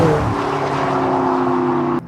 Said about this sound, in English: GT3 RS just buzzing.